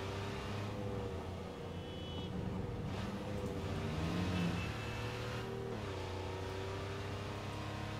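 A Porsche car driven in the Cyberpunk 2077 video game, its engine droning steadily and loudly throughout with a brief rise in revs midway, alone without talk.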